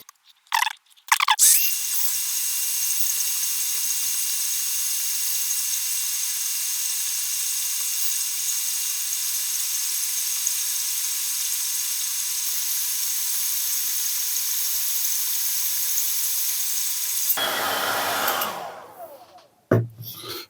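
A heat tool blows a steady, loud, hissing roar onto a BBC Micro case cover being restored, running unbroken for about sixteen seconds after a few short clicks and then winding down.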